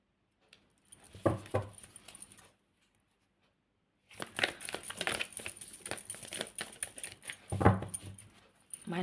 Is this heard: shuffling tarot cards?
yes